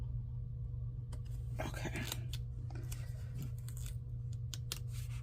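Scissors trimming paper for a bullet journal planner, a few quick snips under a steady low hum, with a brief spoken word from a person.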